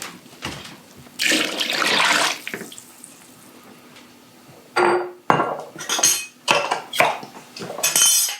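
Broth being poured into soup jars in a home kitchen, with splashy liquid bursts and short pours separated by pauses and a few clinks of glass, no talking.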